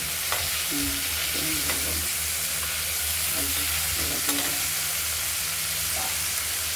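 Prawns frying slowly in a pan for a Bengali poppy-seed paste bhapa dish, a low steady sizzle with occasional stirring scrapes, moderately quiet and with no talk.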